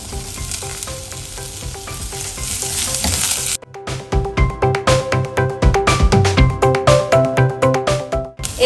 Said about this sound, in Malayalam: അപ്പോൾ അതടുത്ത് നമ്മളതിലേക്ക് ക്യാപ്സിക്കം ഇടുകയാണ്.